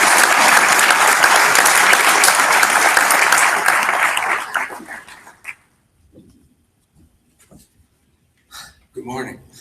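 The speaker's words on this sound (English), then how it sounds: "Let's give him a big round of applause, Charles." An audience at a water summit in Milwaukee gives loud, sustained applause for a moderator, which fades out after about five seconds into near silence broken by a few faint sounds and the start of a voice.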